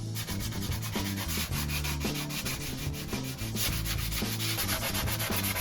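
Sanding block rubbed back and forth over Ford Capri 280 bodywork, a loud, close, rhythmic rasping scrub repeating in quick even strokes with no voices.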